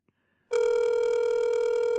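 A telephone rings once on a call-in radio show, a loud steady electronic ring tone with bright harmonics that starts abruptly after half a second of near silence and holds to the end.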